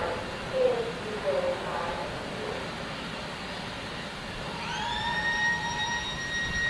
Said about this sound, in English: the shutters have gone up and the alarms are going off